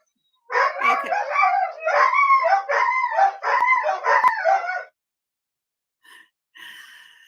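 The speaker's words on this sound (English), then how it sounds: "It sounds like a mush, uh, a toboggan team of dogs." Several dogs, like a sled team, give a loud, steady run of overlapping yelping howls for about four seconds, followed by a few faint, brief sounds.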